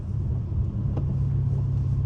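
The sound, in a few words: Dodge Hellcat car sliding around turns in the rain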